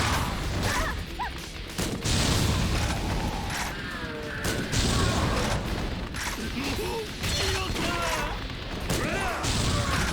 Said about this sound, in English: I will be trying to take care of them with the grenade launcher